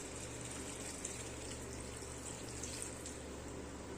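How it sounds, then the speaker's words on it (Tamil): Water is poured into a pan of crab masala, a faint, steady splashing gush with a low hum underneath, continuous and fairly even throughout. "நம்ம தண்ணி ஆட் பண்ணிக்கலாம்"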